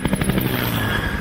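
Heavy rotor thumping from large U.S. military Chinook helicopters, a loud, rhythmic whop-whop with engine whine, close and continuous over the brief span.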